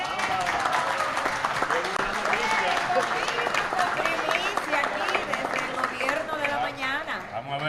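A hospital audience bursts into sustained, dense applause and clapping that fills the room, with voices and cheering mixed in before it starts to thin out.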